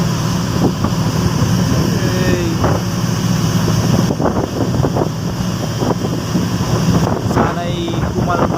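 A strong northeast monsoon wind batters the microphone on a boat trip through rough seas, a loud continuous roar with water sloshing and occasional knocks throughout.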